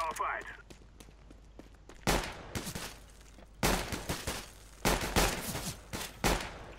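Rapid bursts of video game gunfire crackle in several loud volleys separated by quieter stretches, in a competitive shooter match between two players, with faint footsteps and background noise in between.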